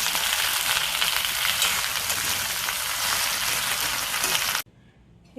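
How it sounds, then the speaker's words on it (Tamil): Okra sautéing with curry leaves in a pan for sambar, a loud, steady sizzle with dense crackle that runs for most of the clip, then cuts off abruptly near the end. "இப்போ வெண்டைக்காயில் அந்த குழவழப்பு போகிற வரைக்கும் நம்ம வதக்கணும்."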